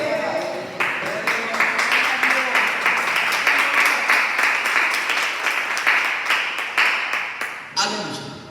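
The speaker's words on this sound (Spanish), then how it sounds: "Puede sentarse con fuerte aplauso al Señor" Loud applause from a church congregation after a prayer in a Spanish-language service, sustained clapping that fills the room for about eight seconds before tapering off near the end.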